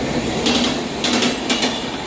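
A Mumbai local train bound for Chhatrapati Shivaji Maharaj Terminus pulls into Curry Road station, a steady loud rumble of wheels with periodic clacking bursts over the rails, heard from on board, no voices.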